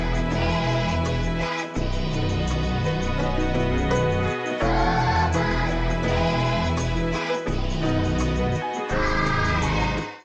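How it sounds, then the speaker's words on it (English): Sustained synth string chords from Analog Lab, layered over a bass line, swelling in held harmonic blocks with brief gaps between chord changes, full and steady with no talk. "for the chords, I chose these strings from Analog Lab"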